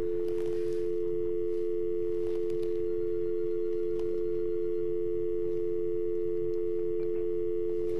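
A telephone tone on a radio phone-in line: one steady, unbroken electronic hum holds at an even level for the whole stretch over faint background noise.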